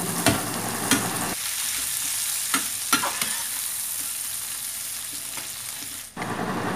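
Half a kilo of medium shrimp stir-frying in a pan, with loud sizzling, several sharp knocks of a utensil against the pan and the sound briefly cutting out near the end.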